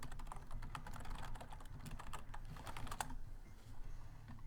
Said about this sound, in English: I just typed it on Google, Sloppy Mechanics Wiki Rods